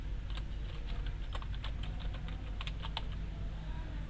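Steady, fast typing on a computer keyboard, with dense clicky keystrokes running throughout at close range and no talking.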